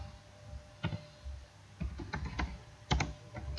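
Keys tapped on a computer keyboard in short irregular bursts of clicks, quiet and close, with no voice heard.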